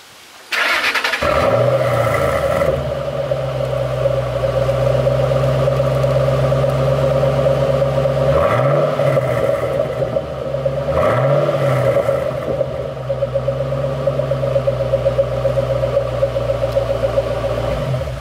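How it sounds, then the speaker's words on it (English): A 2006 Ford Mustang GT with the 4.6L 3V V8 starts up and settles into a loud, close, steady exhaust idle, with a couple of brief revs blipping the rumble midway. "let's check out a clip of this exhaust,"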